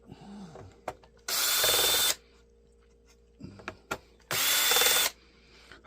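A cordless drill runs in two loud bursts of about a second each, with quieter handling clicks and knocks between them, while a laptop is being taken apart for e-waste.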